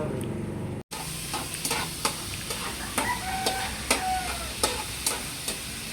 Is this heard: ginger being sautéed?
yes